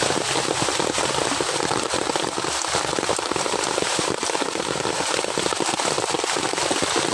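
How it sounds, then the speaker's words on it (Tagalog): Heavy rain pours down steadily on a rainy day during solo mud crab hunting, a dense, loud and constant patter of drops hitting surfaces up close with no voices. "Ang lakas ng ulan"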